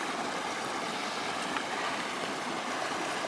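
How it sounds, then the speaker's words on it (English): Holcomb Creek flowing along a Pacific Crest Trail crossing, a steady broadband rush of moving water, soft and constant, with no voices. "time to cross Holcomb Creek."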